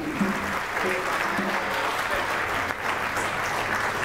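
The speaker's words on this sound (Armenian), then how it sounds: "Եվս մեկ անգամ բարձր ծափերով շնորհավորենք զույգին" Wedding guests clapping for the couple, a sustained, dense burst of applause from a room full of people, with faint voices mixed in beneath.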